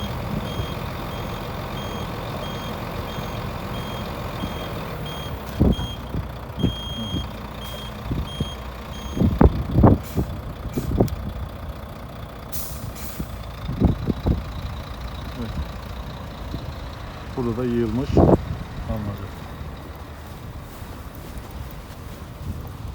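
Snow-clearing trucks work around snow piles at Esplanade Park in Helsinki, their repeated reversing beeps sounding over a steady engine rumble, with scattered clanks and louder bursts of activity throughout.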